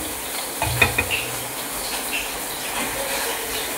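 Mixed leafy greens frying in a pan as a Bengali shaak bhaja: a soft, continuous sizzle with a few clinks and stirring bumps early on, close and without talk.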